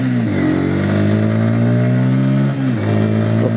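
A Bajaj Pulsar P150 motorcycle engine, loud and close, pulls hard through the revs with rising pitch, briefly drops back at a gear change and climbs again, no voices.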